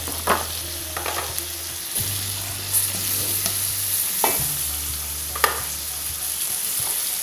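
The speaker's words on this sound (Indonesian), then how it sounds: "Diaduk-aduk sampai matang" Oncom and leunca stir-fried with shrimp, petai, sweet soy sauce and chilies, steady loud sizzling in a hot pan with scraping stirs and utensil clinks.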